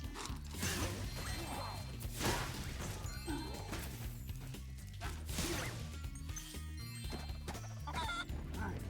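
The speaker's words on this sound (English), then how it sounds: "Oh, hey, giant chicken." A giant chicken in the Spyro Reignited video game clucks repeatedly over game music and mechanical clanks, with occasional crashing thuds, all at a steady moderate level.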